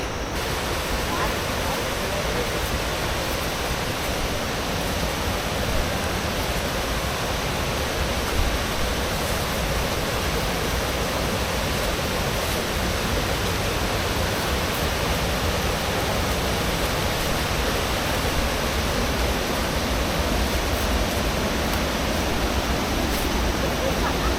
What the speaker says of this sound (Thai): ตัวนี้เขาเรียกน้ำตกอะไรครับ